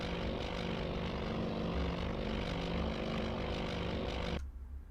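Aircraft propeller engine in the Task Force Admiral naval combat game, a steady loud drone that holds throughout and cuts off abruptly near the end.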